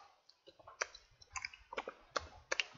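Someone types a website name into a web browser on a computer keyboard, producing soft, quick, irregular key clicks recorded close and fairly faint.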